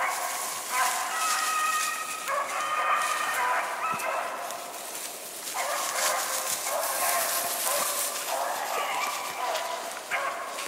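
Beagle hunting dogs bay and bark in bursts during a rabbit hunt in a national forest, the yelping tones repeating over open woods, some way off and moderately loud.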